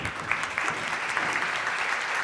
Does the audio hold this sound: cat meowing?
no